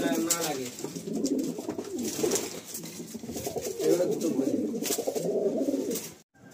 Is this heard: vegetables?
no